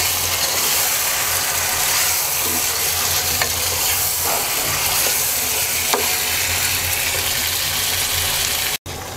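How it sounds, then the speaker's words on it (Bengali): Meat with a cup of tomato paste sizzling in a pan over low heat, cooking in its own released juices; a steady, close frying hiss runs throughout with occasional stirring scrapes, and no voices. "মাংস থেকে যে পানি বের হয়েছে এই পানি দিয়ে আমরা অল্প আঁচে মাংসটাকে সিদ্ধ হওয়া পর্যন্ত কষিয়ে নেব।"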